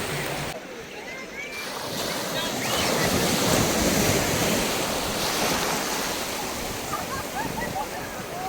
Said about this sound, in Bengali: দাঁড়াও ঢেউ আসছে